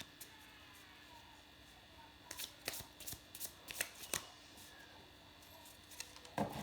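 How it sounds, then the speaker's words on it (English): A tarot deck is shuffled by hand at a table, faint and quiet at first, then a cluster of soft, crisp card riffles and taps in irregular bursts close to the listener. "I always struggle shuffling my deck."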